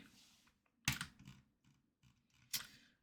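Quiet typing on a computer keyboard, a few short bursts of key clicks separated by pauses, close and soft with no voices.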